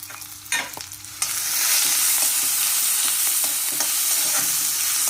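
Green chillies, garlic and ginger roasting in a pan, starting with a few stirring scrapes before a loud, continuous sizzle takes over and holds steady, with occasional utensil clinks and no talking.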